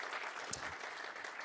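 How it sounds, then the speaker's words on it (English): Audience applause at a global event closing ceremony, a dense, continuous wash of clapping from many people, steady and fairly faint throughout, with one brief sharper clap standing out. "So a good applause to them."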